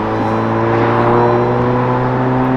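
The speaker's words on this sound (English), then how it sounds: "So at 3000 RPMs, we're going to release the throttle." Car engine with a Stage 1.5 tune and catless downpipe exhaust held loud and steady at about 3000 RPM in second gear, a droning close-up tone with strong low harmonics and no voices.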